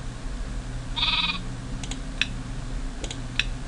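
A Minecraft sheep gives one clear bleat near the start, followed by scattered sharp keyboard-like clicks over a low, constant game hum.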